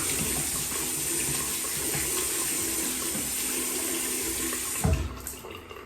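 Tap water runs steadily into a bathroom sink during cleaning, a continuous close hiss and splash that ends with a brief clunk near the end, no voices.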